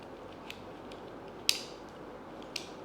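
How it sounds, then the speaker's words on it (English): The plastic clamps of a phone holder are adjusted, giving a few small, faint clicks and creaks spaced apart against a quiet background hiss. "So here in this one, very good advantage is that, so the clamps are there"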